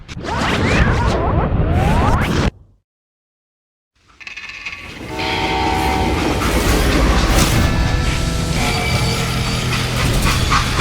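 A freight train in the video game Call of Juarez Gunslinger rumbles loudly. After a brief dead-silent gap, a drawn-out horn blast sounds over steady clattering wheels, with no talk.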